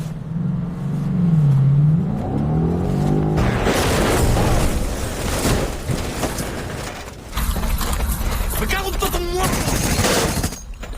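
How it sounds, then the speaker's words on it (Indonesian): Film scene of a truck crashing into a car: a rising engine rev, then a loud burst of crunching metal and debris with rattling, a short break, and more heavy clattering impact noise. "tiba-tiba sebuah truk menabraknya yang membuat Carlos terjebak dan tidak bisa keluar dari mobilnya"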